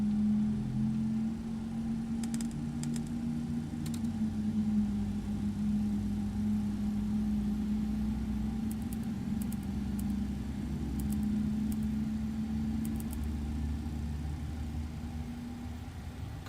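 Pratt & Whitney engine on an MD-11 airliner in X-Plane 12 spooling up, a steady droning hum with a sustained low tone, joined by faint intermittent clicks.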